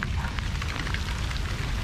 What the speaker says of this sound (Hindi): तो देखिए बारिश तेज़ हो गया है, बादल भी गरज रहा है।